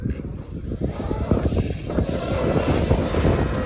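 A Kraton 8S EXB off-road RC truck races past outdoors, its motor giving a close, continuous buzzing whine with rough, grainy texture from the wheels on the ground.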